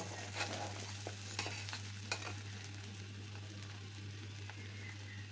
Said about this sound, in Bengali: বুঝে নিতে হবে যে চালটা আর ডালটা খুব ভালোভাবে ভাজা হয়ে গেছে।